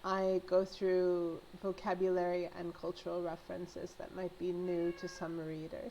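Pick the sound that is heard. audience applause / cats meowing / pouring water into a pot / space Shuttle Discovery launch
cats meowing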